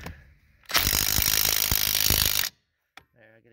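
Wrench loosening lug nuts on a Flexi Coil sprayer wheel: a loud, dense burst of clanking, ratcheting metal for about two seconds, then a short knock and faint clatter.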